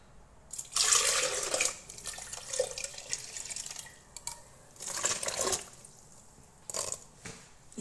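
Water poured from a tap or jug into a pot for a cinnamon drink, splashing in several bursts of a second or two separated by short pauses, close and moderately loud with no talk.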